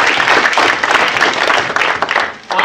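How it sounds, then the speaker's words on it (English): Participants at a session on human development in Indonesia give a short, hearty round of applause, a loud close burst of clapping that surges and dips briefly. "please give yourselves a hearty round of applause for being such engaged participants in this noble endeavor"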